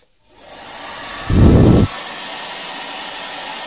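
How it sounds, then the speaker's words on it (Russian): A low-noise hair dryer from AliExpress switches on and blows with a steady airy roar on its hot-air setting; partway through, a brief louder low rumble swells and fades while the blowing continues. "Но шумит он чуть меньше, чем мой обычный фен."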